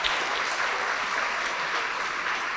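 A church congregation applauds in a thick, unbroken roar of many hands, close and loud for the whole stretch, with no voices breaking through.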